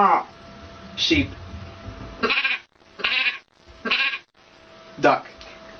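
A woman imitates a sheep with her voice, giving several separate bleating calls in a steady sequence of bursts, each one loud and close with brief pauses between them.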